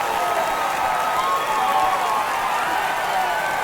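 A home stadium crowd in the baseball game MLB The Show 24 roars and applauds in a dense, continuous wash of cheering that stays loud throughout.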